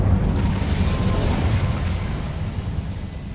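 Fire spell cast in the video game Hogwarts Legacy gives a dense, rumbling whoosh of flame, loud and sustained throughout the short moment.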